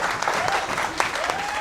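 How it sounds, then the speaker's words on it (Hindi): Students in a chemistry class break into a short burst of dense clapping, close and steady, with a voice talking faintly underneath. "एक जोरदार ताली बजाते हो आप"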